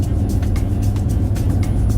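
A Ford Ranger T6 diesel engine runs steadily, a loud, close, low rumble with a gritty, clattering texture throughout.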